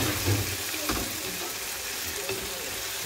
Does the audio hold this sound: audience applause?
no